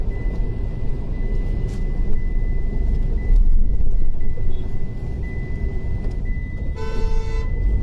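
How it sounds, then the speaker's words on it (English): Dense jammed traffic on a busy Bangalore road at Hebbal, heard from inside a 2020 Tata Harrier, with a steady low rumble of engines and a loud, sustained car horn near the end. "we are in the busy roads of Bangalore. This is Hebbal, so it's completely jammed here"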